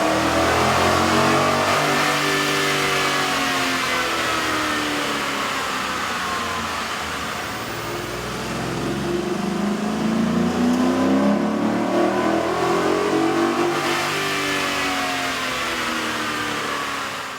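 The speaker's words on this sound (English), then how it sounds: "we ran the vehicle on the dyno to test the sound comparison versus the stock intake" A Ford F150 5.0L engine fitted with a K&N air intake revs on a dyno, a loud sustained roar that swells and sags in repeated sweeps with no talk.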